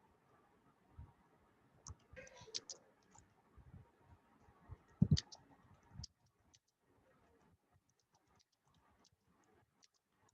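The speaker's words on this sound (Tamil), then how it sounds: "நான் டைப் பண்ணுறேன்." Light clicking keystrokes on a computer keyboard during an online session, coming in short irregular bursts close by and quiet, fading to sparse taps after a pause.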